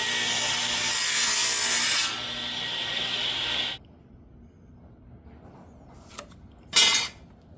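A saw rasps back and forth through a wooden stair baluster for a few seconds, then stops, followed by quiet and a couple of brief scraping knocks.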